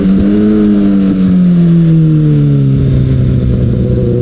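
A Kawasaki Ninja ZX-6R motorcycle accelerating on the road, its engine note loud and close, climbing then settling into a steady pull with wind noise, no voices.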